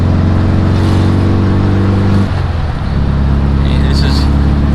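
An air-cooled VW car with a 50 horsepower engine drives on a New Jersey road. Its loud, droning engine hum holds steady, dips and shifts around a gear change midway, then settles into a lower steady drone.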